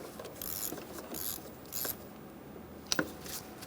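A ratchet snugs down the negative battery cable terminal on a 2003-2007 Honda Accord V6, giving a few quick close clicking bursts followed by two sharper clacks near the end.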